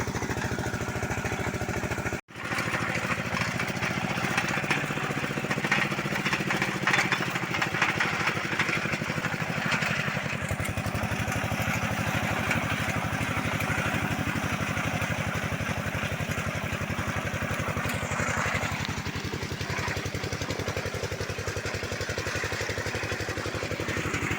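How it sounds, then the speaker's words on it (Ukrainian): A tractor engine labors under load with a continuous rumbling drone, steady and close, wheels clattering and slipping through deep mud, with one brief dropout early on. "Трактор йде в нагрузку, трохи пробуксовує."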